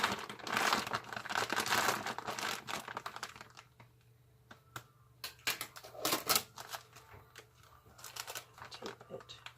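Packing tape pulled and pressed to seal a bag of mushroom sawdust spawn blocks, giving crinkly ripping bursts close up, with pauses and further crackles.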